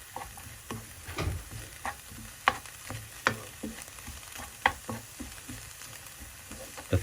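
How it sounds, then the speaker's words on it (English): Chopped onion and leek fry in a pan with a steady soft sizzle, punctuated by irregular clicks and scrapes as the vegetables are stirred, close and moderately quiet with no talking. "keep frying the onion and the leek until they're really soft"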